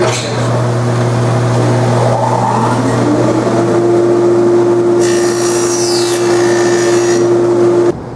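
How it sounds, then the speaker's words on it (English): A dado stack on a table saw cuts stub tenons in cherry wood, with a loud steady motor whine running throughout and a rougher, brighter cutting rasp rising midway as the blades bite into the wood. "I'm just going to go ahead and cut those with my dado stack"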